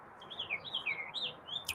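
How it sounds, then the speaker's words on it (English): A mockingbird sings a quick run of varied, whistled chirps and warbles, fairly faint over a quiet background. "I think that's a mockingbird."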